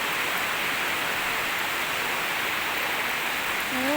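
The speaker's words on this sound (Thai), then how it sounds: "น้ำไหล น้ำไหล" Steady hiss of rain falling on a home vegetable garden, a dense, even wash of sound throughout with no gaps, fairly close and continuous.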